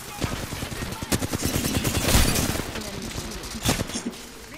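Rapid bursts of L-STAR energy SMG fire in the battle royale shooter Apex Legends, loud close-range volleys with brief gaps, mixed with game effects and players talking over the action.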